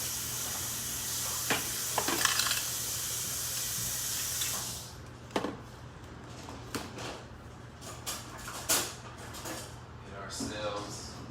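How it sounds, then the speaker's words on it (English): Whole mangrove snapper dropped into hot frying oil, giving a broad steady sizzling hiss over the first half that then settles, with sharp pops and spatters scattered throughout. "Let me get my hands washed and we'll dump these guys into that oil"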